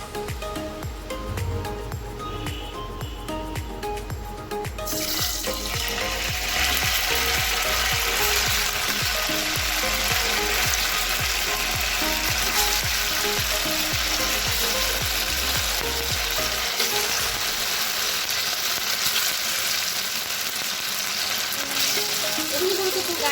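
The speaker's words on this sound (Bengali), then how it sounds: "এখন আমি এখানে তেলও গরম করতে বসিয়ে দিয়েছি, এগুলোকে ফ্রাই করবো এখন আমি" Cut pieces of food going into hot oil to fry, a loud, dense crackling sizzle that jumps up after a few seconds and then holds steady and close for the rest of the clip.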